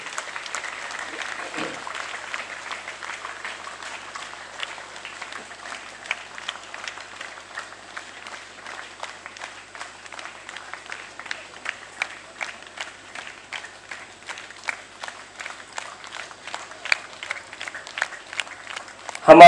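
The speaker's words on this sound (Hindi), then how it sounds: "ताली जोरदार से बजाते रहेंगे।" An audience at a Catholic youth convention in Tamra Palli, Simdega, claps steadily for the whole stretch, a dense, moderately loud patter with a brief voice near the start, building slightly toward the end.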